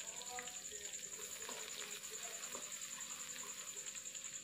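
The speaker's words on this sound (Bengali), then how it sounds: "এখন দিয়ে দিচ্ছি পেঁয়াজ কুচি।" Chopped onion, added after dried red chillies, fries faintly in hot oil, a low continuous sizzle with a steady high whine and light scraping.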